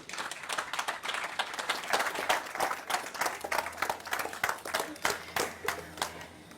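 A modest audience claps after a scientific presentation on cartilaginous fish, with fairly quiet, irregular clapping rolling in uneven waves for several seconds and no speech.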